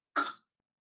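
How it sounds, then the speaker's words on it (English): A single short cough, sharp and fairly close, on its own against silence. "you're still coughing"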